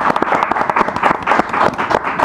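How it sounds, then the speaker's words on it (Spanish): Studio audience clapping on a Spanish-language talk program, a short loud burst of many hands clapping at close range with crowd noise underneath. "Así que un aplauso,"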